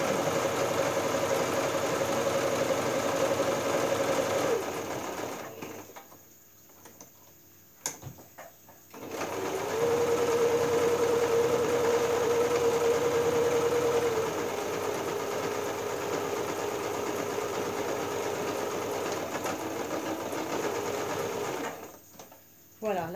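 A sewing machine stitches fabric for a small phone-charging pouch, humming steadily up close, stopping briefly partway through, then running on again at an even pace.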